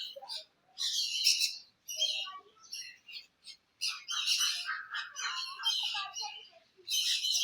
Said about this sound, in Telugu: ప్యారెట్స్ అయితే గట్టిగా గోల్ చేస్తున్నాయి